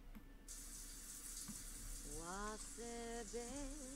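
Shower water runs steadily inside a Sims 4 house, a broad continuous hiss of spray, while a Sim sings along in the shower with rising and falling melodic phrases over the water.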